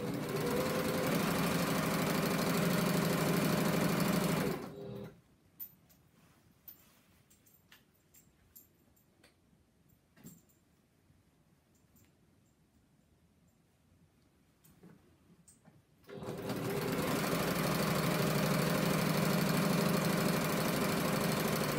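A sewing machine stitches the outside binding of a quilt in two long, loud, steady runs near the start and end, with a quiet stretch between them filled with faint handling clicks.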